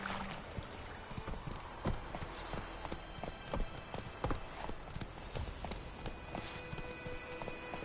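Roach, a horse in The Witcher 3, gallops with steady, close hoof clip-clops in a quick rhythm, sometimes with light jingling, and goes on unbroken with no talk.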